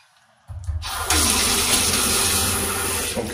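Water gushes steadily from a kitchen tap in a Kigali, Rwanda home, starting abruptly and running at a constant close, full-bodied splash into the sink.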